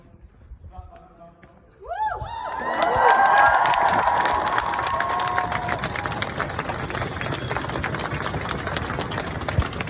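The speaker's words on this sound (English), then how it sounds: "Thundering applause after a few speeches here at the top of the cathedral in Lincoln." A large crowd of well over two hundred at a Black Lives Matter rally near the top of Lincoln cathedral bursts into loud, sustained applause and cheering after speeches, with shouts and voices mixed in throughout.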